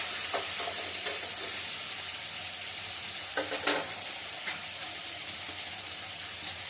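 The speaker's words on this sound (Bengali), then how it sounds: "আমি নেড়ে ছেড়ে আলুগুলো ভেজে নিচ্ছি, মাছের মাথাটাও ভেজে নিচ্ছি" Potatoes and a fish head fry steadily in hot oil, a continuous close sizzle broken by occasional scraping stirs of a utensil against the pan.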